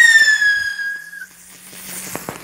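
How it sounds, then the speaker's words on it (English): A bottle rocket firework launches outdoors with a rising whistle that bends downward before fading into a hiss and faint crackles, with voices faintly in the background. "Bottle rocket."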